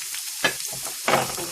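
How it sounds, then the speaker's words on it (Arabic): Onion stirred in olive oil in a frying pan gives a soft, close sizzle with two louder scraping bursts as it is moved around. "دابا المقله درنا فيها شويه ديال زيت الزيتون وغادي نديرو فيها البصله ديالنا"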